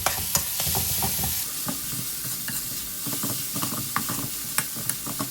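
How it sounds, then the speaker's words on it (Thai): Chilli and garlic stir-fry in hot oil, a close bright sizzle with repeated sharp spatula scrapes and knocks against the pan, lively and uneven in rhythm, with no talking. "ผัดพริกกระเทียมเนี่ยให้ส่งกลิ่นหอมนะครับ"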